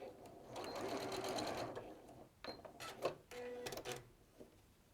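Sewing machine stitching fabric from the outside, a fast steady mechanical whirr for the first couple of seconds, then shorter bursts of stitching with clicks and pauses in between.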